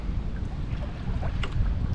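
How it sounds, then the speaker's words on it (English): Wind gusts over a kayak on Lake Erie, a steady low rumble and buffeting across the mic with no talk, loud and continuous throughout. "Sorry about the wind."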